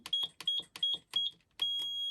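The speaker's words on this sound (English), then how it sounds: "when you get to the end of the row, it makes a loud beep." A knitting machine with a pattern cartridge beeps loudly at the end of a row: four short, evenly spaced electronic beeps, then one longer sustained tone, close and clear with no talking.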